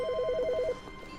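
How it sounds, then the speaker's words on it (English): A telephone rings in the video game The Stanley Parable, one rapid warbling electronic ring burst lasting under a second, clear and alone before the line goes quiet. "Wait, phone call."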